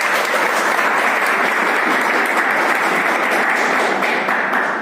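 Loud, steady applause from a large audience at a program event, dense clapping without pause before tapering slightly at the end.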